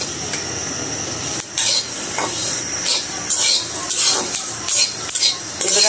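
Peanuts frying in mustard oil crackle and pop over a constant hiss, with clattering spoon-and-pan scrapes as they are stirred, close and fairly loud.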